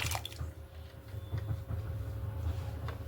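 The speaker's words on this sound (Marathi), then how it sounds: "त्यामध्ये मीठ थोडीशी हळद आणि पाणी गरम करायला टाकले आता आपण याच्या सर्व सगळ्या स्लाइस अशा सोडून देऊया" Potato slices are dropped into hot salted turmeric water, giving soft, quiet plops and small splashes scattered over a low background hum.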